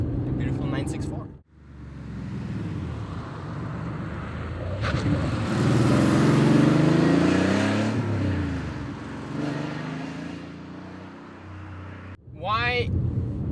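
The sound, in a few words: Porsche 964 Carrera 2 car driving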